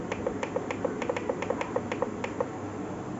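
A treadmill motor makes a steady mechanical ticking at a quick, even rhythm, light and close, with a low motor hum underneath.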